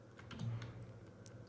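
A few soft clicks of computer keys being pressed, quiet and close.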